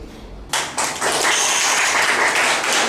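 A concert audience at an exhibition bursts into clapping after a quiet moment. The sound starts abruptly, and the many hands build into a full, sustained round of applause that continues to the end.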